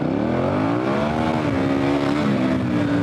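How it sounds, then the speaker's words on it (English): A dual sport motorcycle on Heidenau K60 Scout tires revs its engine hard and steadily, the throttle held open for a continuous, rising and falling drone with no talk over it. "Crack the throttle."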